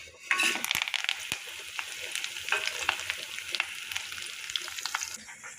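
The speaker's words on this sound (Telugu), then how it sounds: "కరివేపాకు 2 రెమ్మలు, జీలకర్ర 1/2 స్పూను, మినపప్పు 1 స్పూను, ఇవన్నీ కలిపి వేపుకోవాలి." Green chillies, curry leaves, cumin and urad dal fry in hot oil for a cucumber chutney, giving a steady close sizzle with crackles and occasional stirring clinks throughout.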